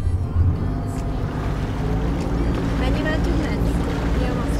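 A catamaran's motor is throttled up on the Adriatic Sea, a steady low engine drone with water and wind noise while a person talks over it.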